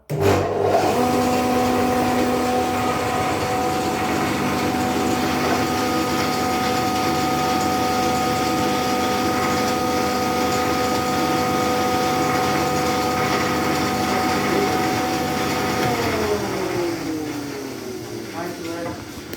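Record Power planer switched on and running with a loud, steady motor drone and whine for most of the clip, then winding down as it is switched off; voice may sound faintly underneath.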